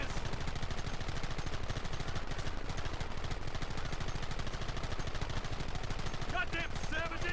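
Sustained machine gun fire in the Red Dead video game, a dense unbroken rattle of rapid shots, loud and continuous, with faint shouting creeping in near the end.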